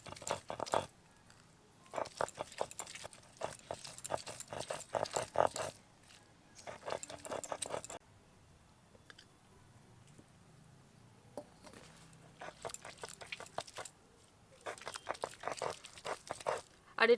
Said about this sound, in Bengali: এই সেদ্ধ থোর আর ভাজা চিংড়ি মাছ এখন একসাথে বেটে নেব।